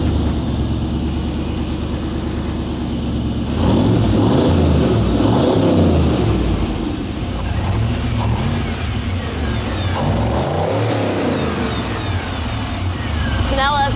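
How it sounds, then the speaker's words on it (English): LS1 V8 engine in a rock crawler buggy cranks and fires, then revs in loud surges over a steady idle rumble, with a person talking over it. "flip the switches, and hit the key to hear it all fire up."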